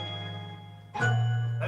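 A strong bell tone sounding above plucked pizzicato strings in a music track, a short phrase that swells in loudness about halfway through.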